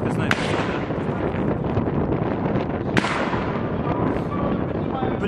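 Sniper rifle fire in a video game: two sharp, loud cracks stand out over a dense, noisy battle din, with voices talking throughout.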